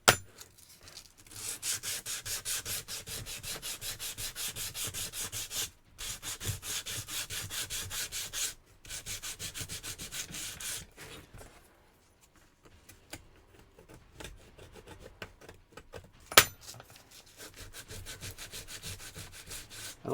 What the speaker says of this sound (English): There's so much sanding